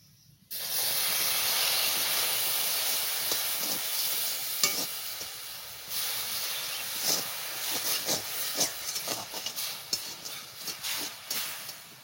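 Water poured into sugar caramelising in a hot pan for fruit kheer makes a loud, steady steam hiss and sizzle that runs continuously, broken by occasional sharp crackles and stirring clicks, with no talking.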